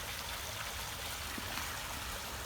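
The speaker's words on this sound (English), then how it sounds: "at the bottom of the terrace, here we go, a little bit of a water feature" Soft continuous trickle of a garden water feature at the bottom of a rose garden terrace, steady and fairly quiet, with no voices over it.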